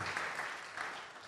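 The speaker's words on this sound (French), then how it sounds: "Come on, let's give the Lord a clap" A church congregation claps in praise during a worship service, a brief, fairly faint wash of steady applause.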